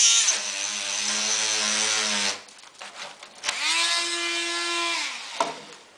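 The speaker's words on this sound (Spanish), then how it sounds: "Hacemos taladro." A power drill bores a hole in a homemade mosquito trap frame, whining steadily at close range in two bursts with a short pause between, each rising and then winding down.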